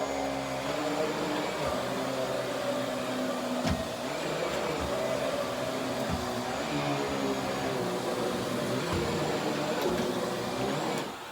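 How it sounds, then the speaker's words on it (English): A central vacuum system used for normal floor vacuuming: a steady, loud whining drone with constant airflow hiss, broken by occasional soft thumps and clicks from the hose head moving across the floor. "Here is me doing some normal vacuuming."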